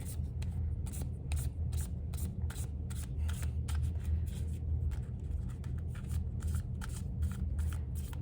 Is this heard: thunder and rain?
no